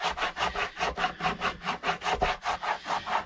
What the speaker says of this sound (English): again, just burnishing this down really, really good.